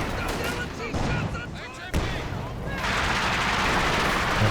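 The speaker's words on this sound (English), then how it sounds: "It's allowing those easy penetrations from the AT rifles." Anti-tank rifle fire and battlefield gunshots in the video game Company of Heroes 2, sharp reports over a busy, loud combat din with one prominent crack near the middle, under light talk.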